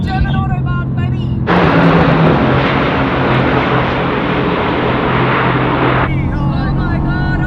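A Mercedes AMG GTR Pro accelerates hard on the German Autobahn, a loud broadband rush of engine and wind roaring up close for several seconds, with excited voices before and after.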